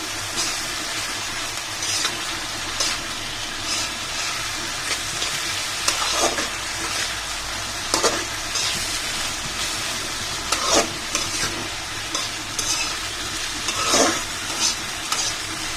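Garlic and onion frying with dheki shak greens in a pan, a dense, continuous sizzle with occasional stirring scrapes and crackles, close and loud throughout, no voices.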